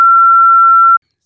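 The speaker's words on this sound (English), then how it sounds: "I'm gonna beep that." A single censor beep: a pure, steady electronic tone held loud for just under a second, then cut off abruptly to silence.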